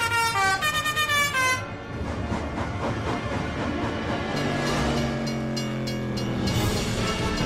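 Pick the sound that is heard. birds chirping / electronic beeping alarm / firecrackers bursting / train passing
train passing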